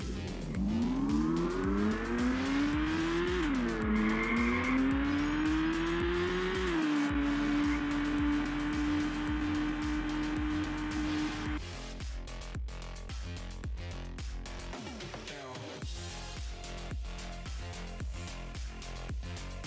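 A car in a video-game AI driving demo runs loud and steady, its engine tone climbing and shifting through gears with tire squeals and skidding, then a rougher stretch of rumbling and scraping toward the end; no one speaks.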